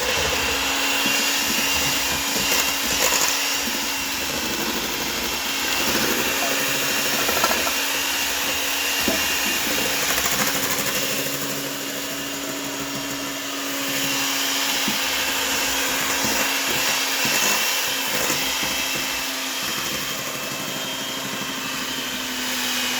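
An electric mixer whirs steadily through chocolate Oreo cake batter during holiday baking, a continuous motor drone with a faint steady tone that lasts the whole stretch, close and moderately loud, with no talking.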